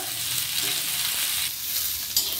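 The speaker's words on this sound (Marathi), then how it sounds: "हे आता व्यवस्थित भाजून घेऊया, कांदा जरा लालसर होईपर्यंत।" Onion, garlic, ginger and chili frying in a pan, a dense, continuous close sizzle with a faint clink near the end and no talking.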